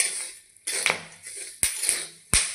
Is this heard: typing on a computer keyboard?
no